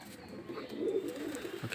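Pigeons returning into their loft at dusk give a few soft, low coos, faint and close, over quiet background noise.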